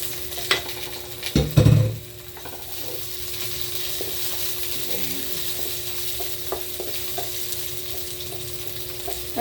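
Onions frying with lemongrass in a pan give a steady, moderately loud sizzle. A burst of clattering and stirring comes near the start, and lighter scrapes and ticks follow over the hiss, with no talk.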